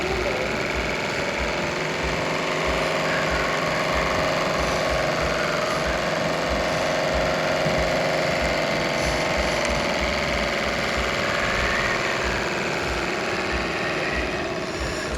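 A Stirling-engine model boat named La Corolle, radio-controlled and running on gas, gives off a steady, fast mechanical chatter with continuous whirring. It carries on unbroken for the whole stretch, close and fairly loud, with no talk.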